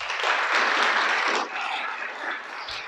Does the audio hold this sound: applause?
yes